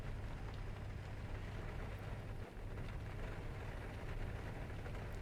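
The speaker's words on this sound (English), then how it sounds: "It sounds like it started raining as well." Steady rain noise from the X-Plane 11 flight simulator in the cockpit of a Flight Factor 777, an even hiss with a low engine hum underneath, faint and continuous.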